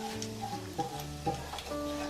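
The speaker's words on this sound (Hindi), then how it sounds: "अदरक देने के बाद हम अदरक की खुशबू आने तक हम इसको फ्राई करेंगे" Chopped ginger fries in a pan with a soft, steady sizzle, quiet and close, as a spoon or spatula stirs and scrapes now and then over a faint background hum.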